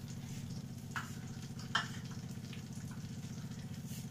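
Garlic fries in a pan on a low flame with cinnamon stick for paneer butter masala, giving a soft steady sizzle with a couple of faint stirring scrapes and no talking.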